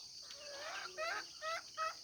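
Fowl at a farm's morning feeding call out nearby in short, bubbling gobble-like bursts, three or four clustered calls over quiet background, with no talk.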